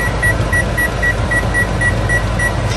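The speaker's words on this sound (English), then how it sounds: "I'm going to put the timer." Short electronic beeps of a kitchen timer repeating at a steady quick rhythm over a low humming background.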